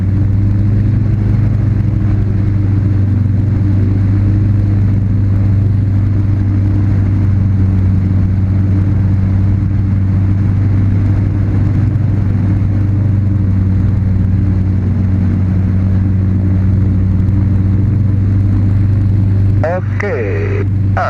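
A gyroplane engine held at a steady high run-up of around 2,800–3,000 RPM for a magneto check, a loud continuous droning hum close to the microphone throughout, with a brief shift near the end.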